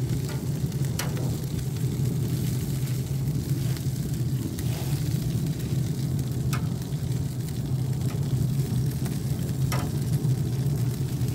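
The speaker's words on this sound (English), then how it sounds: "let's get the sausage in this darn sauce" Italian sausages being stirred into a pot of simmering sauce, a steady low bubbling rumble with occasional faint scrapes and clicks of a utensil against the pot.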